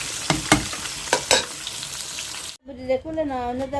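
Eggs and fish frying in a pan, a steady broadband sizzle with a few sharp spits and pops, then a sudden cutoff followed by a high, wavering voice-like tone that is most likely a voice speaking.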